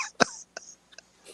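A man on a sports talk show mimics a cough with his voice: one harsh, loud burst followed by a few shorter, softer hacks and a throaty rasp.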